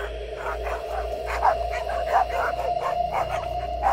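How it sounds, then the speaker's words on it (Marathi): A dog barks repeatedly in a steady series of short, fairly clear barks over a low continuous hum, with no talking. "कुत्रा पुन्हा एकदा भुंकू लागला"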